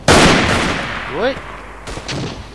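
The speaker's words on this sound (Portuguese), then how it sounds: "Está aqui um tiroteizinho." Gunshots in a World War I shootout in the video game Verdun, a loud close crack at the start decaying away, then fainter shots later, with a voice calling out briefly in between.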